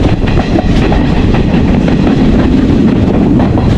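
An express train on the Colombo to Kandy line in Sri Lanka rumbles along loudly and steadily, with constant wheel noise and rhythmic clatter heard from on board.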